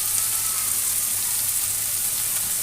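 Cumin paste and chopped garlic sizzle in hot oil in a pan, a steady bright hiss of frying spices heard alone and fairly soft.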